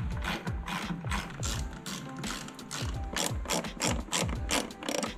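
A hand ratchet clicks steadily while tightening 10 mm bolts on a Ford F150 light fitting, close, continuous rapid pawl clicking in short back-and-forth strokes without speech.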